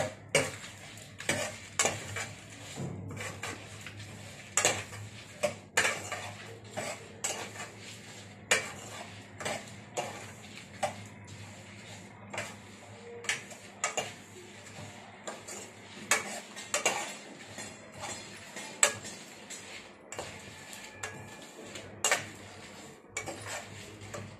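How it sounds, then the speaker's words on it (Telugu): Spices for amla pickle dry roasting in a pan, with a steady run of sharp scraping and clinking stirs against the metal over a faint low hum, close and moderately loud, no talk. "ఇవన్నీ ఇలాగా డ్రై రోస్ట్ చేసుకోవాలి కొద్దిగా."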